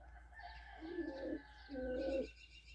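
A pigeon coos close by in two soft, throaty phrases, low and rolling, with a faint steady hum underneath.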